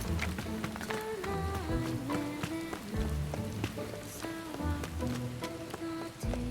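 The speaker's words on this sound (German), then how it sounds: "Ach, das sind Regentropfen." Raindrops falling in the video game Beast of Reincarnation, a steady broadband patter running continuously beneath tonal game music.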